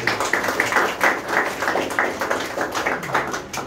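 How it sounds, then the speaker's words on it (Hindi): An audience at a lecture on self-reliance bursts into clapping: a dense, steady patter of many hands close by that runs throughout without any talking. "ताली हो गई।"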